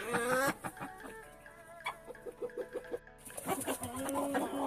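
A broody hen sitting on eggs gives a run of low, rhythmic clucks and grumbles at close range, with a few sharper squawks near the start and end.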